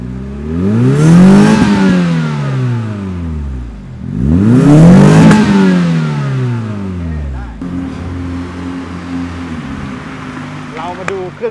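A 1993 Opel Corsa with a Remus-built exhaust revs loudly twice in rising-and-falling sweeps, then settles into a steady idle with a faint click at the end.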